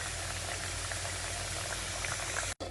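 Potato wedges deep fry in hot oil with a dense, continuous sizzling crackle, steady and close, cut off abruptly near the end.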